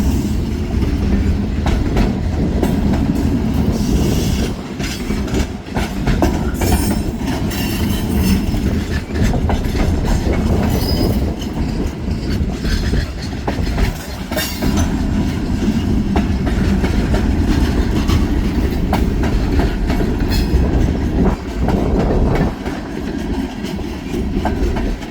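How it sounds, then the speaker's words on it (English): A long freight train rumbles past continuously at close range, wheels clacking rhythmically over the rails with occasional metallic squeals, loud and unbroken for the whole stretch. "that's one of the longest trains I've seen in a while"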